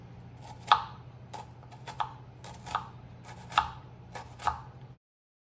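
Onions being chopped with a knife on a cutting board while preparing seasoning for steamed cabbage: five or six distinct, fairly loud knife strikes at an uneven pace over a steady low hum, with no talking.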